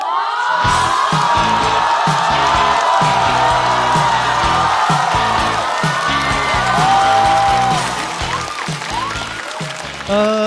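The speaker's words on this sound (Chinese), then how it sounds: "掌声欢迎高寒" A stand-up comedy audience breaks into loud, sustained applause with cheers and whoops to welcome comedian Gao Han on stage, a dense crowd roar that eases slightly near the end.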